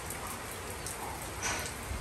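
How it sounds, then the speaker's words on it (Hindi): Steady rain falls outdoors on a mid-morning, a continuous soft hiss of drops on surfaces with a slight swell near the middle, no voices. "वक्फे वक्फे से बारिश हो रही है।"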